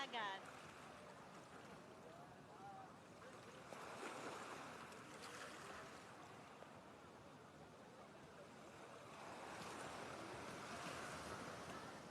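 Surf rolling onto the coast at Gangneung, steady washing waves with wind buffeting the microphone, swelling louder toward the end, with no talk over it.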